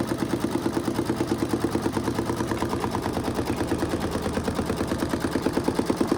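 A home embroidery machine stitches an outline in pink thread through watercolor paper on stabilizer, a steady rapid mechanical chatter of needle strokes repeating evenly and close up with no talk.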